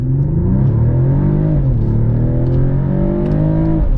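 A 2022 facelift Mercedes-Benz E450 E-Class launches hard from a standstill, its engine note climbing steadily and loudly through the rev range in one continuous pull, heard from inside the cabin with no talking.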